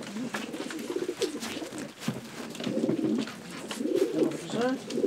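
Crossbred pigeons of Janssen, De Klak and Meulemans lines coo in repeated soft, throaty rolling phrases close by, with a faint voice in the background at times.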